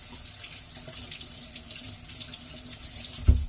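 Apples rinsed under a running kitchen tap, a steady hiss of water splashing in the sink with a brief louder knock near the end, close and alone.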